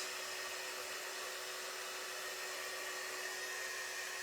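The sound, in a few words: hair dryer drying craft leaves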